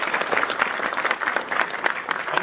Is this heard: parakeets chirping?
no